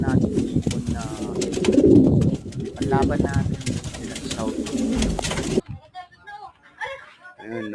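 Pigeons cooing in a low, murmuring flutter under someone talking, then fading as the background quiets.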